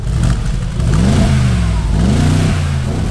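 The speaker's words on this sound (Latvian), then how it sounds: "V8 dzinējs" Mercedes G-Class 63 AMG V8 revs loud and close, its deep engine note climbing and falling in two strong sweeps over a constant rumble.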